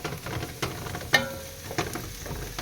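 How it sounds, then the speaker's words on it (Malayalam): Biryani ingredients are stirred and fried in a pan until browned, with soft sizzling under a few spaced scrapes and clinks of a spoon against the pan, close up and with no speech. "ഇതുപോലെ ഏകദേശം ബ്രൗൺ കളർ വരെ വരുന്നത് വരെ നന്നായി ഇളക്കി കൊടുത്ത് അതിനെ ബ്രൗൺ കളർ ആക്കിയെടുക്കണം"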